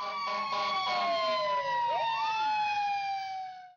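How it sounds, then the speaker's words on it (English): A fire truck siren from a kids' video game wails loudly, its tone sweeping down and overlapping as it passes, sustained for nearly four seconds with no talking. "Fire truck."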